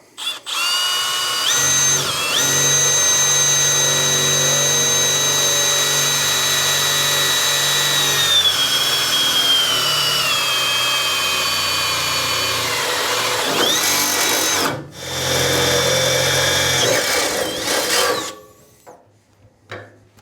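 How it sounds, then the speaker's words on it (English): A power drill with a 3/8-inch bit runs almost continuously for about eighteen seconds, drilling holes, its steady whine shifting pitch as the bit bores through, with a brief pause near the end. "I'm just going to drill 2 holes. This is a 3/8 drill bit."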